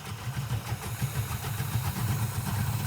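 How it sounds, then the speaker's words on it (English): A car engine idles steadily after its carburetor idle mixture has been adjusted and fresh spark plugs fitted, giving a continuous low rumble with an even pulsing beat close to the microphone and no voices. "What I'm gonna do now is set the idle mixture on the carburetor, get a little bit more idle speed."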